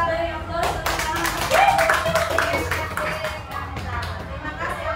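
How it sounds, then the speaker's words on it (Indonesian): A classroom group claps together in a steady, dense patter of applause lasting several seconds, mid-distance, with voices audible underneath. "kita beri aplaus tepuk tangan"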